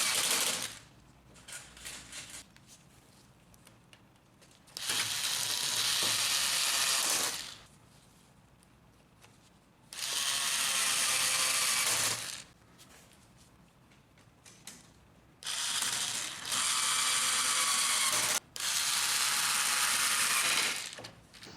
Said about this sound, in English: Reinsert the 5 screws.